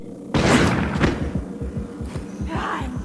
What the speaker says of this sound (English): let's test the assault shotgun on a human player